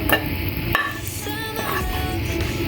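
Chicken being stirred and fried with ketchup and chili sauce for homemade shawarma, with steady close sizzling under scraping utensil strokes and a few sharper clinks against the pan.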